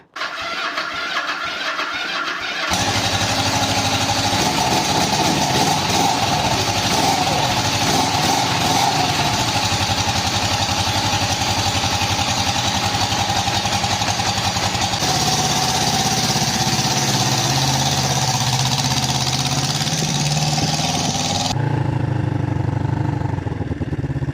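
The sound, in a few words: 1973 Yamaha TX500 motorcycle engine running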